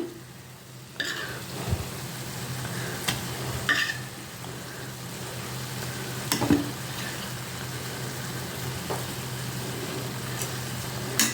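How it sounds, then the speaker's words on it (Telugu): Goat brain fries with softened onions in a pan, making a steady close sizzle. Occasional sharp clicks and scrapes of stirring break through it, and no one speaks. "ఇప్పుడు బ్రెయిన్ వేస్తానండి కొంచెం కొంచెంగా"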